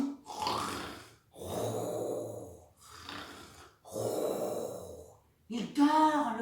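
A storyteller mimics a crocodile snoring with four long, rasping breathy snores in a steady rhythm, close and fairly loud, ending in a brief higher voiced snort.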